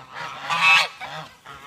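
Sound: geese honking

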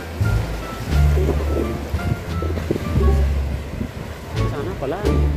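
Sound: beach waves

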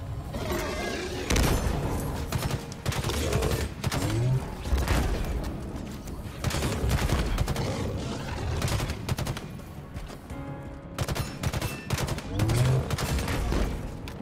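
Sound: gunfire in Halo Infinite video game

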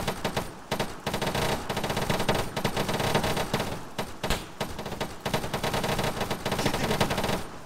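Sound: gunfire after permission to engage, video game

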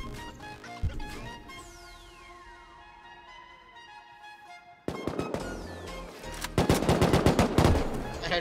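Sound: gunfire in the video game Rust

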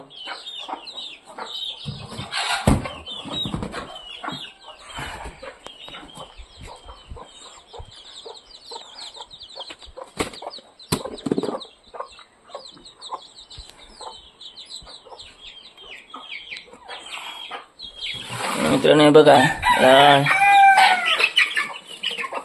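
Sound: roosters clucking and crowing

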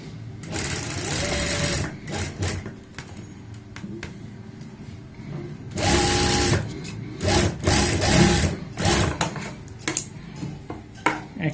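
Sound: sewing machine stitching triangle-shaped fabric pieces along marked line

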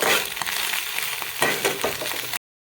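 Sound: eggs frying in a pan

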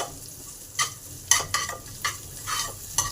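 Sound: frying asafoetida, cumin, nigella, chili, ginger in hot oil

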